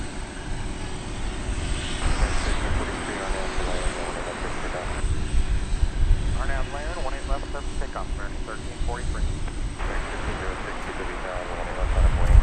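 American Airlines Airbus A321neo jet at DFW Airport, its engine noise a steady broad roar mixed with distant airport rumble, running throughout under a person talking.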